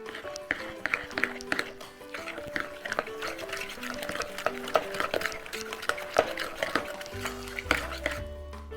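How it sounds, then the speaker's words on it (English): White sugar is stirred into a chocolate chip cookie mixture in a bowl, with a steady run of scraping and tapping strokes over quiet background music. "I'll show you just what it should look like after I stir it"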